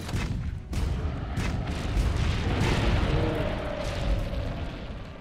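Cannon fire in Monster Hunter World during a fight with a dragon, a dense run of booming blasts and rumbling impacts piling into a loud, continuous barrage that swells and fades slightly.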